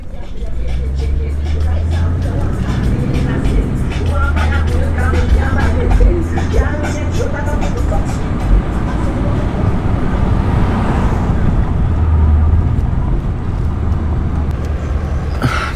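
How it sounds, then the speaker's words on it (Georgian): Cars roll through a car meet with a steady, close wash of engine and road noise that holds for the whole stretch, while voices talk underneath. "გავიაროთ აბა ჯერ მანქანით"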